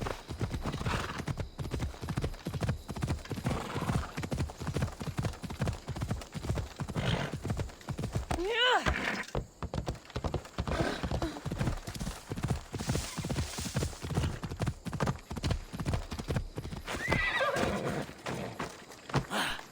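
A horse gallops across open ground in Assassin's Creed Odyssey, with rhythmic hoofbeats pounding steadily and close. A neigh rises in the middle, and faint game sounds sit underneath.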